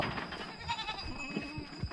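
A goat bleats a few times in the forest, quiet and moderately close, with low rustling noises in between.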